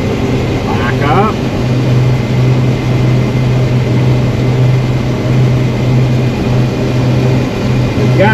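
A combine harvester shelling corn runs with a steady, low engine drone throughout, while a person talks over the machine.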